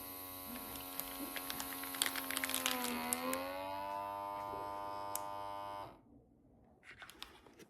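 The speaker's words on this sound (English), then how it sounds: "Now look how fast this one is vacuum sealing in the smaller bag." ZKIRON OneTouch handheld vacuum sealer pulling air from a small reusable bag, a steady close whine that dips in pitch partway through, then stops abruptly, followed by faint rustling.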